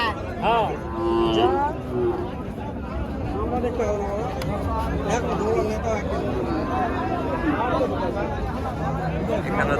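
Desi cattle at a crowded livestock market ahead of Qurbani. A few low moos rise over a constant babble of people chatting and bargaining nearby.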